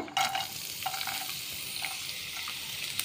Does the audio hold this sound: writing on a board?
no